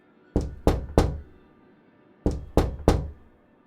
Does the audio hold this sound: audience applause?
no